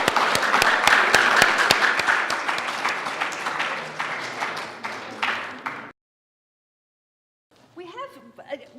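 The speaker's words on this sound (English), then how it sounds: "how about we give one round of applause for everybody's effort this semester" A round of applause from the audience at an entrepreneurs program end-of-semester celebration, with dense, steady clapping that thins and then stops abruptly, followed by a short pause before a voice resumes.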